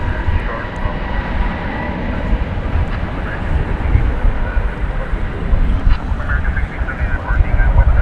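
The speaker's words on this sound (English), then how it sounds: "we have arrivals and departures coming in simultaneously here on runway 18 right and left" Steady, loud aircraft engine roar at a Dallas/Fort Worth airport runway with arrivals and departures at night, a continuous broad rumble throughout with no talking.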